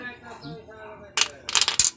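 A few old coins drop and clink in quick succession, bright metallic chinks over a faint murmur of background voices.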